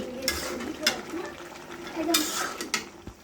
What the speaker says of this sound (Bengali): ধনিয়া গুঁড়ো দিয়ে দিলাম এবার ভালোভাবে নেড়ে চেড়ে নিচ্ছি